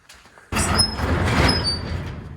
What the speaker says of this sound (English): Let's see if I can get this door open.